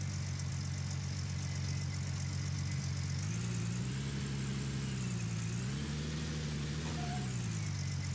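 A vehicle engine in the video game Gold Rush runs steadily, idling low and rising twice into gentle revs before settling back, a continuous close hum without talk.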